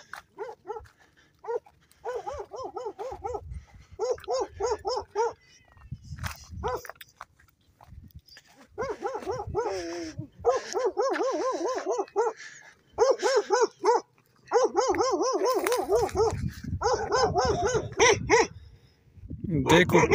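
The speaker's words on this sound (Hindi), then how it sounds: "देखो कितने दहशत वाले कुत्ते हैं, सही टैट के साथ, चुप भी नहीं कर रहे हैं।" Fierce dogs bark aggressively and continuously at a house, loud repeated volleys of barks close by, with occasional low background noise between bursts.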